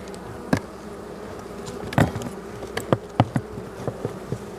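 Honeybees buzz at a hive in winter as the nest is being reduced, a soft continuous hum broken by several sharp knocks and taps from handling the frames.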